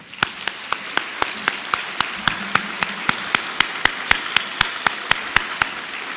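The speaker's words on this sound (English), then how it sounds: "please give them a warm round of applause" A small dinner audience at an award gala claps steadily for six teacher scholarship winners, each clap sharp and distinct in an even, moderately paced rhythm, with no cheering or voices over it.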